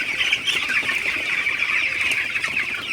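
A crowded flock of broiler chickens clucking and chattering continuously, close by, with a constant dense murmur of many birds and no speech.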